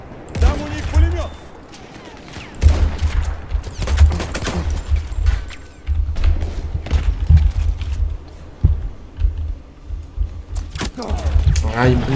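Bursts of machine gun fire in a video game sound in loud, rapid rattling volleys with booming impacts, while players talk excitedly over the shooting.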